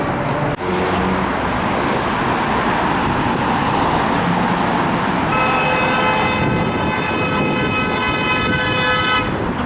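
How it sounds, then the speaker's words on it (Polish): Car horns honk in dense New York City street traffic, with short toots early and a long sustained blare later, over constant roadway rumble and a passing siren. "takie to jest właśnie amerykańskie trąbienie, nowojorskie"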